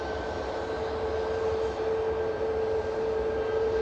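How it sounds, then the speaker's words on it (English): A 27-year-old Jet2 Boeing 757 departs Manchester Airport on its takeoff roll: a steady, loud broadband engine roar with a faint constant whine, holding even and unbroken throughout. "the 757's heading over to Ibiza with flight 1033 for Jet2"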